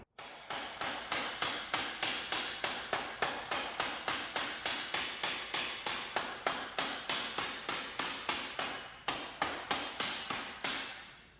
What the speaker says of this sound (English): I don't know much about tin bashing, but it seems to be, if you give it some smacks